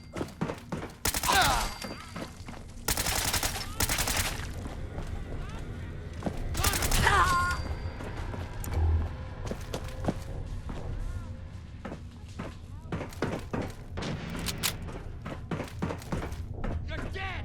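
Gunfire bursts in a Fallout 4 battle, several loud broadband shots and short volleys scattered among thuds and impacts, with game voices shouting between them.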